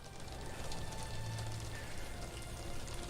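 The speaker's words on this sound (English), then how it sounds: "I think it's raining" Rain falls in Sherlock Holmes The Awakened, a soft, even patter with a low background hum.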